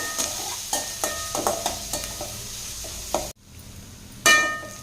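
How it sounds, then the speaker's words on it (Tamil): Chopped onion frying in oil in a pan, stirred with a spatula: a steady sizzle under a run of regular scraping strokes, a brief break, then a louder stir at the end. "ஒரு பெரிய வெங்காயம் பொடியை கட் பண்ணி வச்சுருக்கேங்க சேர்த்திக்கலாம் சேர்த்திட்டு நல்லா கலந்து விட்டுறலாங்க"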